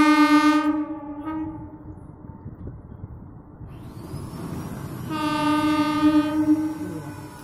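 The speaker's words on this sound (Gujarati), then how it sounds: "ટ્રેન બાજુ માં થઈ રહ્યા." A train crossing the Tapi river railway bridge in Surat sounds its horn in two long blasts separated by a pause, loud and near, over a steady rolling rumble of wheels on the bridge.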